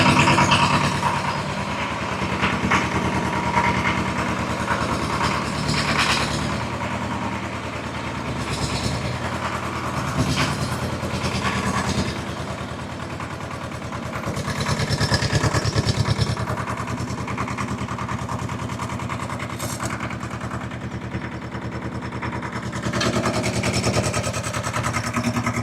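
An old Ford 1000 tractor engine runs steadily after starting, a continuous low rumbling idle close by with some clatter and swells in loudness, no talking over it.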